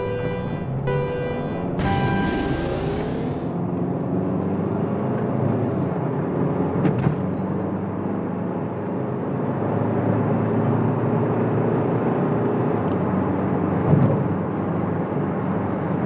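A used Hyundai Santa Fe engine roars steadily under full throttle, heard from inside the cabin as a continuous loud drone with rising pitch early on, broad road and wind noise filling the background.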